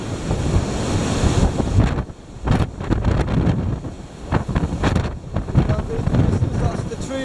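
Strong wind gusts batter the microphone in loud, rolling surges at a rock slab campsite, briefly easing before roaring back, with a surf-like rush underneath.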